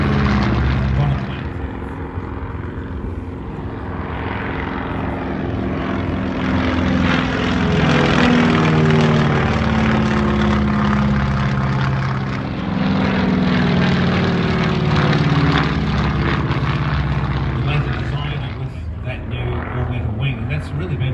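A vintage World War II-era propeller fighter monoplane flies at the Omaka Classic Fighters airshow. Its engine roars as a loud, sustained drone that swells and fades slightly as it passes, under continuous commentary.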